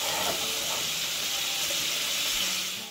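Bacon sizzling in a pan, a continuous bright hiss and crackle held at steady loudness for a few seconds, with no talking.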